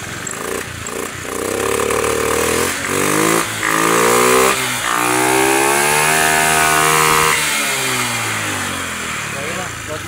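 A Honda Beat scooter engine catches and settles into a loud, close, buzzing idle with a few revs rising and falling, while people talk over it.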